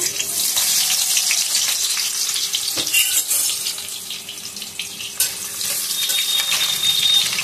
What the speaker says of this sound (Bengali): এই যে রান্নাটা সর্ষের তেলে হবে। পেঁয়াজ ফোড়ন দিয়ে দেবো।